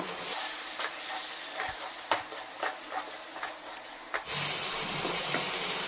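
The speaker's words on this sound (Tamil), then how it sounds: "நம்ம சேர்த்துக்கிற தக்காளியை நல்லா எண்ணெய் பிரிஞ்சு வர்ற அளவுக்கு வதக்கி கொடுத்துருவோம்" Tomatoes sizzle steadily in hot oil for fish curry, with scattered scraping stirs and a louder hiss near the end.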